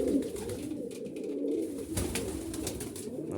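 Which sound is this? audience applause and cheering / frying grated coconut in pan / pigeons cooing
pigeons cooing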